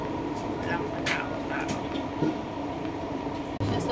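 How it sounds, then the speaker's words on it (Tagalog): An MRT train runs along its rails, heard from inside the carriage as a steady rumbling roar with faint clatter and a few brief rattles. "Nasa loob pa ako ng MRT."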